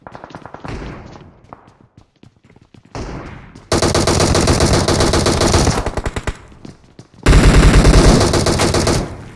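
M762 assault rifle firing full-auto in a video game: after a few scattered single shots, two long, loud sustained bursts of rapid gunfire rattle close to the listener.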